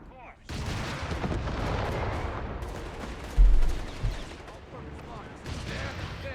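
Artillery fire in Company of Heroes 3, a desert battle between the Afrika Korps and US forces, with a heavy booming impact and a second blast amid steady battlefield rumble and someone commentating over it.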